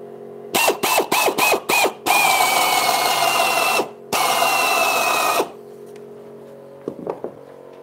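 A power screwdriver drives screws into rotten wood: five short, sharp whirring bursts, then two longer sustained runs, loud and close, followed by quiet handling clicks.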